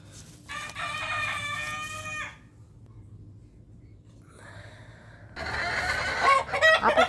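Brooding hens settled on eggs cluck in two bursts of close, throaty calls separated by a quieter pause, with the second burst louder and busier.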